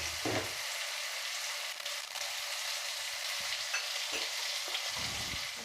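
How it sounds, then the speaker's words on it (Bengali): Chopped tomato fries and is stirred in a pan, giving a steady, close sizzle with occasional scrapes of the spoon and no talk. "এবার দিয়ে দেবো কুচনো টমেটো। আবার একটু নাড়তে থাকবো আমি।"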